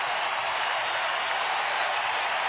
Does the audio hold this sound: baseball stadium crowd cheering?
yes